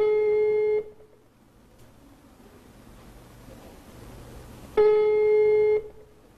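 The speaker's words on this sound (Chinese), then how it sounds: "李平提供的电话号码已无法接通" Two steady electronic telephone tones of about one second each mark an unreachable number, with quiet line hiss between them.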